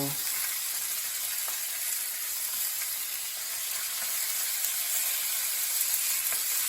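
Butter sizzles in a frying pan next to hake fillets, giving a steady, even crackling hiss that runs throughout at moderate loudness with no talking.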